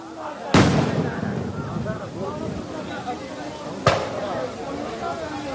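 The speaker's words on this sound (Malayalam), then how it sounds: "ഒടുവിൽ പടക്കം പൊട്ടിച്ച് വീണ്ടും ട്രാക്കിലേക്ക്" Two sharp firecracker blasts, set off to drive a wild tusker elephant back into the forest in Palakkad, crack out a few seconds apart, with voices talking in between.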